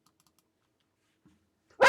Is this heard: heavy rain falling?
no